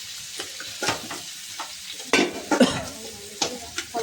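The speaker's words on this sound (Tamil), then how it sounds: "இப்போ மீனை தோசை கரண்டியால எடுத்து போடுங்க" Fish frying in a hot pan, turned and moved with a dosa spatula: a steady close sizzle broken by several sharp metal scrapes and clinks of the spatula against the pan.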